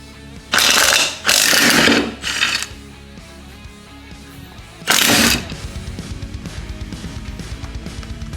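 A ratchet loosening wheel bolts on a 1972 Sears SS15 garden tractor: several loud, close bursts of rapid clicking with pauses between, followed by softer mechanical tinkering.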